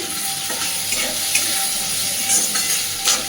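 Onion frying in a pan for a home-style Bengali snake gourd and shrimp dish gives a steady close sizzle, with stirring scrapes and little bursts of crackle. No one talks.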